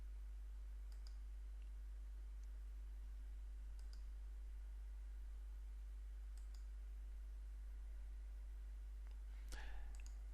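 A few sparse, soft computer mouse clicks land several seconds apart while ticking boxes and saving in Joomla 3 module settings, heard over a low steady hum.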